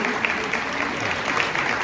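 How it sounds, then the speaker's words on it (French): Brief, dense applause from an audience, steady clapping with some crowd murmur and a voice mixed in. "J'aimerais déjà qu'on applaudisse ce personnage"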